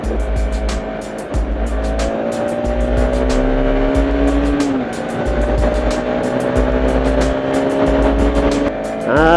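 Several motorcycles on a group ride, one a KLX in supermoto setup, roar steadily and close by, their engines rising and falling in pitch as they shift gears, with no talk.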